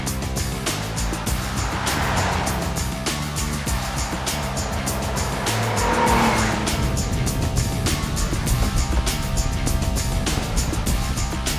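A car slides around under throttle, its engine droning loud and continuous with tires squealing over it and swelling in intensity about midway through.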